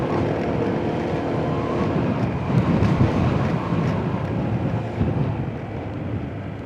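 Steady wind rushes and buffets the microphone with a low rumble, like moving through open air past rice fields, with no voices.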